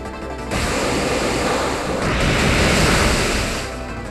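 Pokémon X battle move Waterfall, a rushing, crashing water effect that swells from a brief lead-in into a dense, loud roar, then gradually fades.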